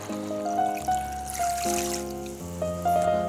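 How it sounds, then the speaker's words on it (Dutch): Water trickles and pours into a pot of bouillabaisse with fish, a soft, steady stream running for a few seconds under background music. "Nu moeten we nog juist water op doen en dan gaat hij in de oven."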